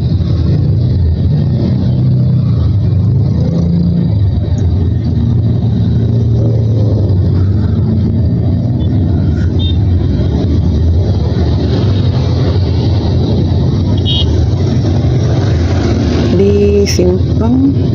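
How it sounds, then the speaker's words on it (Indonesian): Steady roar of busy Ramadan-evening road traffic, cars and many motorbikes streaming along Jl. HR Subrantas at Simpang Panam in Pekanbaru, Riau, a continuous dense rumble with passing engines and no clear voices. "Ini motornya ramai banget ini."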